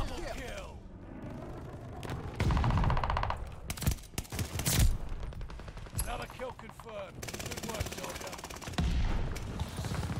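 A one-shot-kill DLC gun firing in Call of Duty Vanguard, sharp shots and bursts among other battle noise, with a player talking over the action.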